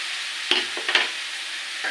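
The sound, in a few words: spices tempering and frying in oil for banana curry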